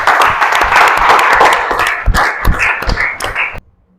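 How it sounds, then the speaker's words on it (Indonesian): Students in a classroom clap together after their teacher calls for applause, a brief dense burst of handclaps lasting a few seconds before cutting off into quiet. "Tepuk tangan dulu untuk kalian semua"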